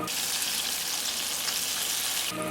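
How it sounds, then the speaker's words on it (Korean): Battered boneless chicken, coated once more in dry flour, deep-frying in hot oil with a steady, dense sizzle that runs without a break until it drops off near the end; no one talks over it. "튀김 물 반죽에 튀기기 직전에 가루에 한 번 더 묻혀서 튀기는 걸 추천해줘요"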